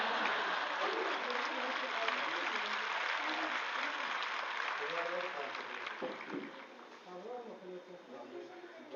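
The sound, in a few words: audience applause at speech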